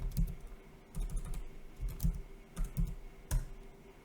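Computer keyboard keys tapped in quick irregular bursts while entering a terminal command for an Ethereum RPC node setup, close and clear with no talking.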